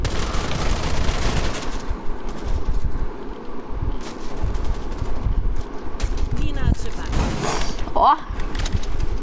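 Rapid bursts of gunfire in Rainbow Six Siege crackle over a constant noisy mix of effects, with a voice speaking now and then.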